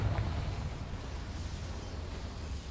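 A Confringo fire spell bursts in a Harry Potter video game, a loud, rumbling explosion whose deep roar carries on steadily without any talk.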